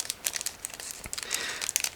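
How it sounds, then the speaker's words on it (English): A crinkly plastic bag holding clear sprue and decals from a Miniart 1/35 Tempo E400 Hochlander Pritsche model kit being opened, close, busy crackling and rustling bursts in quick irregular succession with no talk. "I'm opening this plastic bag with clear sprue and decals"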